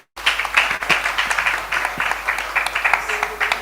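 A conference panel audience at a health and wellness marketing event breaks into applause, a steady wash of many hands clapping that starts suddenly and carries on with fluttering peaks, with faint crowd noise underneath.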